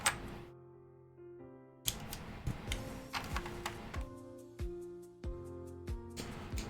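Keystrokes on a freshly assembled Space 65 mechanical keyboard, sharp clacks arriving in quick irregular bursts after a short pause, close and fairly crisp with a tonal hum running beneath.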